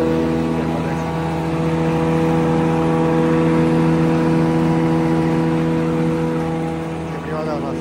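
The cutter shaft of an SR 4-2 thickness planer runs at a steady speed, giving a loud, continuous hum with strong even harmonics that holds throughout and eases slightly at the end.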